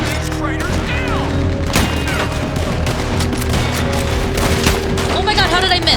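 Gunfire in the video game Red Dead Redemption II: repeated loud shots and booming blasts over dense, busy game sound, with voices also present.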